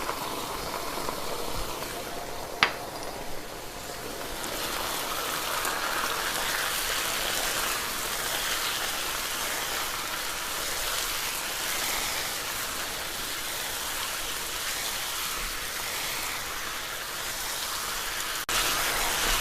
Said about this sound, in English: I'm gonna stir fry this just for about 30 seconds to get all my spices really nice and cooked